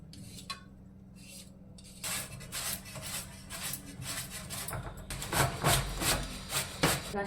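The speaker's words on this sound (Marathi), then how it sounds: "हे याचे साल काढून किसून घ्यायचे आपल्याला साबुदाण्यामध्ये टाकण्यासाठी" Peeled potatoes are grated by hand for a sago-potato papad mix, giving a steady run of close, rhythmic rasping scrapes that grow louder and denser after a quiet start, with no voices.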